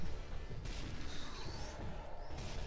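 Gunfire from the video game Zombie Army Trilogy, dense continuous shooting and crashing impacts at a steady level, with no talk over it.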